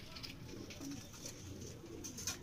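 Low, rolling coos from young Nasal high-flying pigeons, faint and continuous against a hissy background, with no voices.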